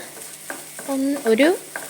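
Curry leaves crackle and sizzle as they are stirred and dry-roasted in a pan for a chickpea curry. Short scraping stirs and bright squeaky spits of oil come close in brief bursts, and no one speaks.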